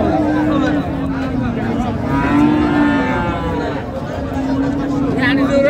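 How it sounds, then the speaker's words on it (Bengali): Cows and calves moo repeatedly at the Raniganj cattle market, with long, loud, close lowing calls over constant crowd chatter and people talking nearby. "গাভী বাছুর আমরা দেখছিলাম এখানে।"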